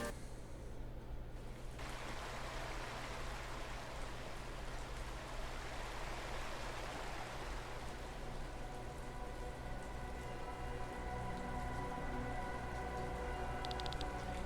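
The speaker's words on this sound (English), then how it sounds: "It's the main capital town where the rain never ends." Steady, dense rain falls over a capital town in the video game Chained Echoes, a continuous hiss of drops on surfaces with a low rumble beneath and no voices.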